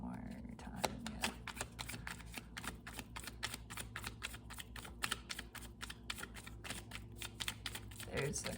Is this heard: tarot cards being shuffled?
yes